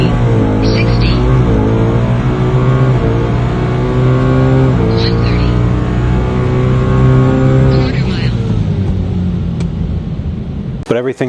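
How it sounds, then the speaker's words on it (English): A supercharged car from ESS Superchargers accelerates hard through its gears, loud and close, with the engine note climbing and then dropping at each of several sharp shifts, with some talk in the background. "Listen to those shifts."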